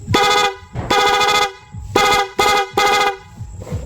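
Loud rapid car horn blasts in a stuttering pattern, five short honks with brief gaps, close and harsh.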